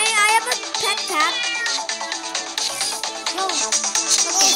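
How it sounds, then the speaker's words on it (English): A pet cat in the video game PK XD meows repeatedly in short rising cries, loud and close, over busy game music with no talk. "so I have a pet cat."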